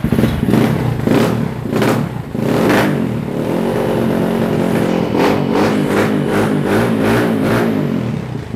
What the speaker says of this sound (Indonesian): Kita coba starter ya, starternya di sini.